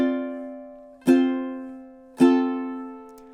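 Two bright ukulele strums ring out over a held chord, each sharp attack decaying slowly, playing a measure of the Hawaiian song Loke Lani, close and clear with no voice.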